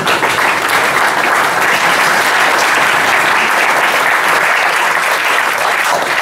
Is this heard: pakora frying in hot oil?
no